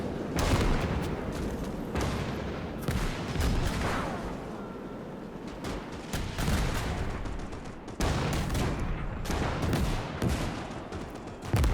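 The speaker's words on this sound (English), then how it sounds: "let's enjoy this Saxonian mech here as it fires at the enemy" A Saxonian mech in Winds of Iron fires its twin gun, heavy booming bursts repeating every second or two amid continuous battlefield rumble and artillery noise.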